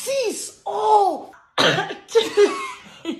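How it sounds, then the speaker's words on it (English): Several harsh, close coughs burst out in quick succession, tangled with laughter and throat-clearing and separated by short silent gaps. "I just coughed."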